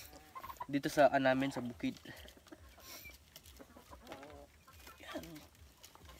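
Chickens clucking around a farm hut, soft and close, mixed with quiet rustling and someone talking.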